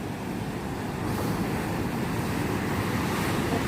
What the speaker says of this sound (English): We're still getting the big old waves smashing in.